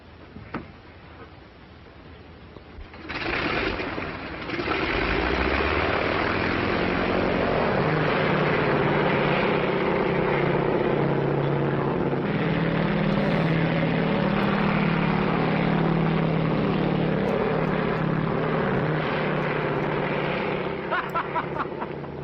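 A propeller airplane engine roars up steadily from a quiet start and holds a loud, sustained drone as the plane takes off, with brief faint voices near the end.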